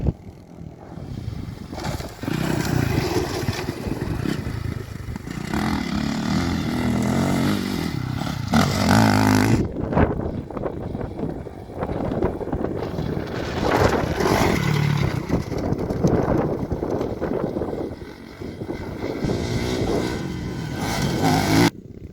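A Kawasaki KX450F converted to a three-wheeler rides laps on the Wilbur, Washington MX track, its engine revving and surging in continuous waves, loud and near, with clattering bumps.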